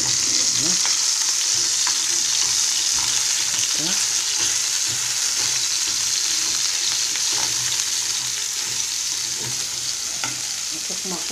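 Hot oil frying loudly in a pan, a dense, continuous crackling sizzle that stays strong and steady throughout with no talking.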